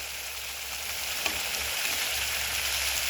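Spiced masala paste sizzles in hot oil with a little added water while cooking for begun sundari, an eggplant dish. The frying hiss is steady and close throughout, with one brief sharper crackle near the middle and no voices.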